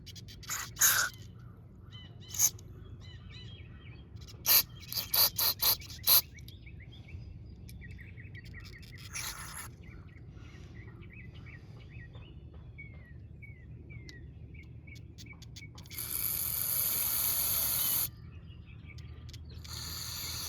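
Aerosol cleaner sprays through the venturi of a Briggs & Stratton 775EX carburetor in a single steady two-second hiss near the end, after scattered short clicks and light handling noises, with faint birdsong outdoors.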